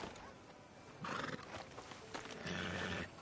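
In the video game Red Dead Redemption 2, a horse whinnies twice in loud, shrill bursts over faint clip-clopping hooves, the whole scene quiet and low in level.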